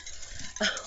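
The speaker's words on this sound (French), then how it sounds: "c'est mon chien qui tousse" A dog's brief rough cough bursts out near the end, loud and close, following a quieter stretch of low indistinct noise.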